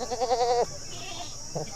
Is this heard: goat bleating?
yes